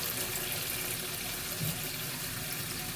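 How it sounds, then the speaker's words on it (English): Tap water runs steadily from a kitchen faucet into a pot filling for chicken broth, a continuous close rushing hiss with no voices over it. "Or as quick as my faucet will fill it up."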